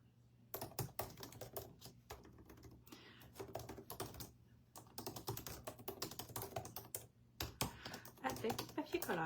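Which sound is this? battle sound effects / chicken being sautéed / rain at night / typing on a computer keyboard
typing on a computer keyboard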